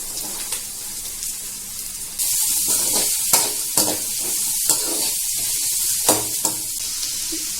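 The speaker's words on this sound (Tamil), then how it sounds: "கூடவே பச்சை மிளகாய், கருவேப்பிலை, பூண்டு லேசா வதங்கினதும் இப்ப வெங்காயம் சேர்க்கிறாங்க." Onions sauteing in hot oil with garlic, green chillies and curry leaves for a shark puttu dish, a loud continuous sizzle punctuated by sharp stirring clacks of a spoon against the pan, no talking.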